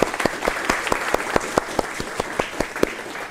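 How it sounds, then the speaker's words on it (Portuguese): Audience at a technical panel session applauds three panelists, a moderate round of claps with sharp, fairly evenly spaced hand strikes standing out over a steady patter, with no talking. "Peço mais uma salva de palmas para os 3."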